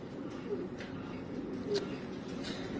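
A racing pigeon gives two short, soft coos about a second apart, heard close against a faint background hum.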